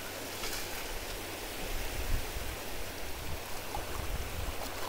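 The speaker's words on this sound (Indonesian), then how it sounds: "Ombak ini ketika hantamannya seperti ini nih, ini ada nada jadinya ke alatnya." Ocean surf breaking on a shore where a metal detector is being swept for sunken gold and heavy metals, a steady broadband wash of water rolling in close with slight surges, no voices.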